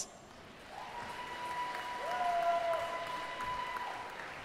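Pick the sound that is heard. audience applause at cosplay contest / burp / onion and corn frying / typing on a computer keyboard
audience applause at cosplay contest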